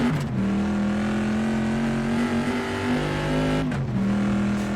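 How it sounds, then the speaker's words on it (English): A V8 race car engine from a 1960s GTC mod in Assetto Corsa revs hard under full throttle, a loud, steady droning roar that rises, dips briefly near the end and climbs again, with no voices. "Right, let's give it a full bit of throttle."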